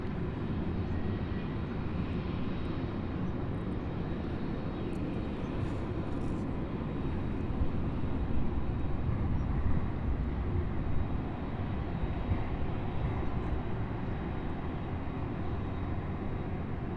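Steady, loud broadband jet roar from a 27-year-old UPS Boeing 767-300 cargo plane departing Louisville airport for Oakland, holding a constant rumble throughout with no voices.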